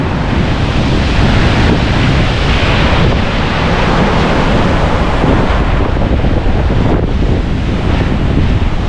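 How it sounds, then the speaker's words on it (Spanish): A torrential river rushes through Ronda after heavy rains, a loud, unbroken roar of churning water filling the whole stretch with no pauses. "Mirad la fuerza que lleva el río."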